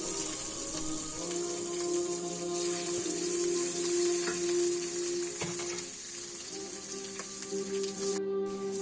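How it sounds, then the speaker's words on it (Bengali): Onions fry and sizzle in hot oil while being stirred, a continuous crackling hiss with occasional scraping knocks of the spatula, steady and fairly close. "ভালো মতো ভাজা শেষে পেঁয়াজ ঢেলে নাড়তে থাকি"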